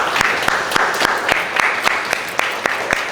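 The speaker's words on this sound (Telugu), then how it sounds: "సో గట్టిగా ఒకసారి చప్పట్లు అందరికీ." An audience at a Christmas health and community gathering claps together in a steady, rhythmic beat, the applause moderately close and continuing without pause.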